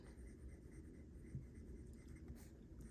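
A Conklin All-American fountain pen with a broad nib scratches softly across paper at close range, a faint continuous writing rustle with small taps, no talking.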